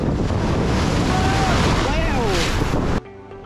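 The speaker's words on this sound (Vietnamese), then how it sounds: "Hôm nay sóng rất là lớn nha," Large waves on a rough sea off the beach at Ho Tram, a loud continuous roar of surf mixed with wind buffeting the microphone, with faint voices in the background before the sound cuts away near the end.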